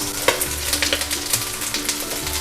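Garlic, chillies, onions and beans stir-fried in a pan for Chinese duck noodles: a dense, close sizzle with quick scraping tosses throughout a short burst, no voices.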